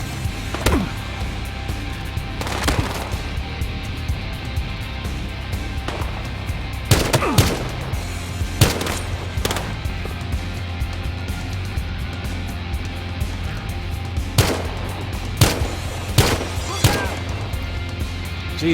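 Repeated gunshots ring out in a game, sharp irregular cracks spaced a second or two apart over a steady low background drone, fairly loud and close, with occasional voices.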